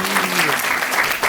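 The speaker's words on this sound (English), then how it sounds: "Give her a round of applause." A brief burst of dense clapping from a festival audience at a Janmashtami kirtan drama, greeting an actor playing Princess Rukmini, loud and close throughout.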